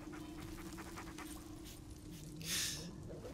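A dog being petted in the post-apocalyptic game Remnant 2 pants softly in quick rhythmic breaths over a steady low hum, followed by a brief brighter hiss near the end, all faint and distant.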